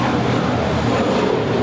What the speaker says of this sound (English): This departure is American Airlines Flight 32 departing to JFK. It's an A321.